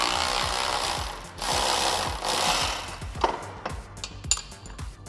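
A wrench works loose the sway bar link nut on a Can-Am Maverick R side-by-side, giving rapid ratcheting clicks in bursts, then a few separate metallic clanks and taps close by, with no talk.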